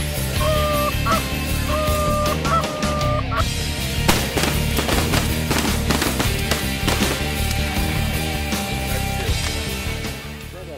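Geese honking over a field during a waterfowl hunt on Delmarva, a few loud repeated honks at first, then a dense crackling burst of sharp sounds in the middle, under a steady background.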